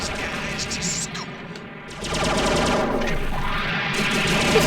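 Rapid machine-gun fire and explosive missile blasts from the Robotech Battlecry video game, a dense continuous barrage of crackling shots with echoing booms that grows louder midway, with no talk.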